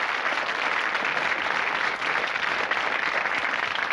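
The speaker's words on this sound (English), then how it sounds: "So, a round of applause for him, as he did a very good job." Studio audience applauding on a 1984 British Blockbusters game show, a steady unbroken patter of many hands clapping for a few seconds with no voices over it.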